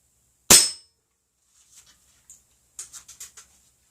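A single sharp air gun shot firing a PDG pellet rings out loud and close, followed after a pause by a few faint clicks and a quick run of light metallic taps.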